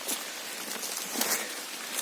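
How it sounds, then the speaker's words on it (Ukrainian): Light rain falls on a forest during mushroom hunting in Zarichne, Rivne region, Ukraine, a steady soft hiss of drops with a few slightly sharper pattering hits, fairly close and continuous, with no voices. "Ще цей дощик пройде і буде нормально."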